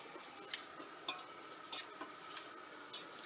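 Onions for chicken dum biryani sizzle steadily in hot oil in a pot, with a few sharp scraping strokes of a stirring spoon over the constant frying hiss; no voices.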